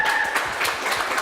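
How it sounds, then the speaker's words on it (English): Brief round of applause from a conference audience at Radius Vienna 2015, a dense, steady patter of many hands clapping at moderate loudness. "A round of applause,"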